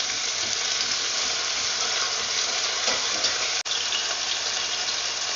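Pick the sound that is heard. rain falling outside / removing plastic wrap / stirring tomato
stirring tomato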